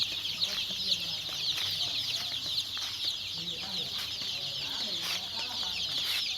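Tiger breed chickens cluck and chirp continuously on a farm, a busy flock close by with overlapping calls throughout.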